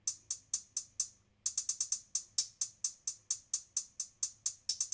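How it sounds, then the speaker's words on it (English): A crisp hi-hat ticks in a steady, even pattern of bright, short hits, pausing briefly near the start before the rhythm continues. "I also added a simple hat pattern."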